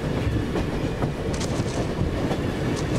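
A train rumbles steadily along with a continuous roar and faint clattering of wheels, close and loud, with no voices, on a line running west toward Lanzhou or Xinjiang.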